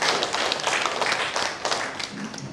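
A seated audience at a book-launch talk concert applauds four poets, many hands clapping in a lively, crisp patter that stays fairly even before easing slightly near the end.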